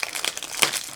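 Release paper from a diamond painting kit crinkles and rustles as hands handle it, a close, dry burst of papery crackles over about a second.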